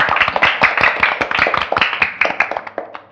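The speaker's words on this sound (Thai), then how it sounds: "ปรบมือให้ตัวเองหน่อย" Students in a Thai primary maths class on decimals clap for themselves, a quick ragged burst of hand claps from a small group, fairly close and loud, with no talking over it.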